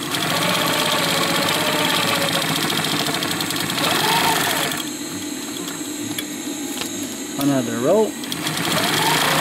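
A sewing machine stitches webbing onto a DIY 30-liter backpack, running as a steady mechanical whir throughout with a brief higher whine near the end; a person speaks briefly over it.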